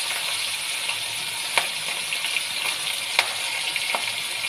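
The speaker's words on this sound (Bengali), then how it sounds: "ওই জন্য চিংড়ি মাছটা ভাজা বসিয়ে দিলাম।" Prawns frying in a pan, a steady moderate sizzle with occasional light clinks of a utensil, with no voices.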